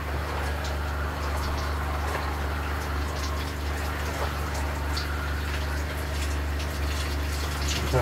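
Steady water runs from an RV camper shower head, a continuous close hiss and splash that holds even for the full stretch with no talking.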